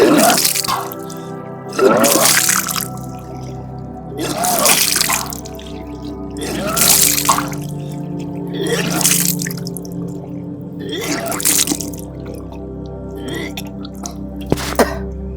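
Water being vomited back up from the stomach during the Vaman Dhauti (Kunjal Kriya) yoga cleanse, in several loud gushing splashes spaced a couple of seconds apart, with gagging and dripping between them.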